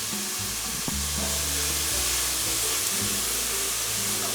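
Onions sautéing in a pan for empanada filling, a steady loud sizzle and hiss that runs throughout, with a few clinks from stirring early on and no talk.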